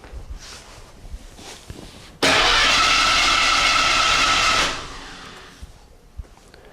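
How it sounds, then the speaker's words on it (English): A 5.0L OHV Ford V8 engine in a Fox-platform Ford cranks over with a loud, steady whirring roar for a couple of seconds, then winds down, leaving quiet background noise. "Now I'll spin the engine over and see if we have some lights blinking."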